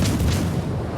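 Cruiser guns firing in the naval battle game World of Warships Legends, heard as a single dense, loud boom that rumbles and fades over about a second.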